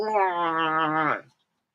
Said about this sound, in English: sounds like your cat's getting a little feisty there